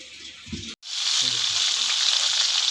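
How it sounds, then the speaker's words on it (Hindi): Lasoora fruit for pickle frying in hot oil: after a short stir and a brief silent gap, a loud, close, continuous hissing sizzle fills the rest of the moment. "इन्हें फ्राई करेंगे हम उस वक्त तक जब तक इनका कलर चेंज नहीं हो जाता"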